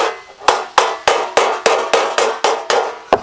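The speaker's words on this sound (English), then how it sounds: "We need to put the dolly in on the heel like this and then take a slapper, not a hammer." A slapper strikes sheet metal backed by a dolly on the heel, in metal fabrication work: about eleven sharp, loud metallic slaps in a steady, evenly spaced rhythm, each ringing briefly before the next, with no talking.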